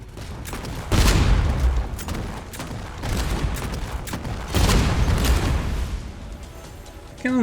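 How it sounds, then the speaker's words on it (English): Ship cannons fire in the naval video game Age of Water, loud booming volleys rumbling in heavy bursts with a steady battle din between them. "cannons do feel stronger,"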